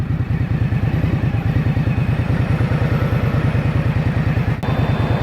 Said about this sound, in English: You can hear the fan coming on for the radiator down there.